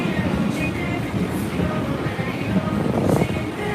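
A train rumbles past nearby in Shibuya, Tokyo, with a steady low roar, rattling wagons and a brief metallic squeal near the end.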